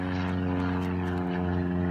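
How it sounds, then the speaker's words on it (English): A propeller airplane flying overhead a backyard, its steady droning hum loud and continuous throughout, with no speech. "Sorry about the plane going over."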